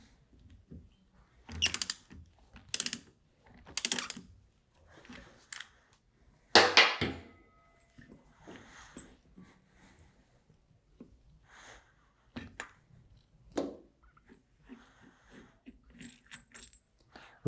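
Tool loosening screws on the wet end of a twin screw pump, scattered ratcheting clicks and sharp mechanical snaps, some louder bursts between quieter fiddling noises, close up and intermittent, no speech.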